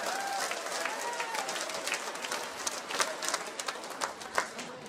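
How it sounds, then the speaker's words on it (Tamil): At a student college-guidance event, a crowd claps with hands raised overhead, producing scattered, fairly quiet applause mixed with voices and crowd murmur. "எல்லாரும் சேர்ந்து தலைக்கு மேல ஒசந்து ஒரு கைத்தட்டல் கொடுத்து பார்ப்போம்."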